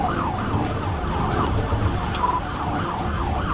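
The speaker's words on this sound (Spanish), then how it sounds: "El policía activó la sirena y dio múltiples órdenes." A police car siren wails steadily up and down in a fast, continuous cycle, loud and close, over the rumble of a moving vehicle on the road during a high-speed chase.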